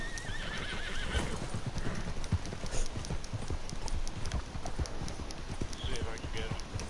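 Horse hooves clip-clop in Red Dead Redemption gameplay, a fast, continuous patter with a neigh near the start, while a voice talks over it.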